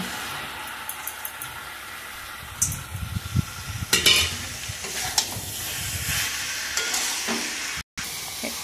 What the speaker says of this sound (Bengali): এরকম করে কি নেড়ে নেড়ে আর হালকা আঁচে এই রান্নাটা করতে হবে